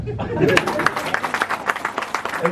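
An audience at a health talk bursts into close, brisk clapping, with quick hand claps running steadily throughout and voices mixed in underneath.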